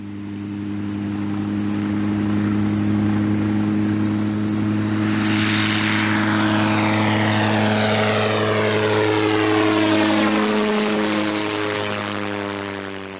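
A Curtiss Jenny, a World War I training biplane, flies past with a steady, droning propeller engine that swells and fades, loud and continuous for the whole span, with no talking.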